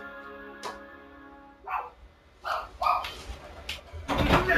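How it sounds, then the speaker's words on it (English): Dogs barking in the Kinect Star Wars video game, several sharp barks and yips in irregular bursts, moderately loud, with some light background sound. "What the bean pies are you barking at?"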